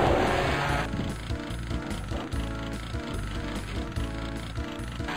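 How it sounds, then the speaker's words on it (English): Revving chainsaw in the first-person shooter Doom, a steady loud mechanical rattle chugging in repeated pulses with a burst of noise at the start, heard alone. "Eat chainsaw."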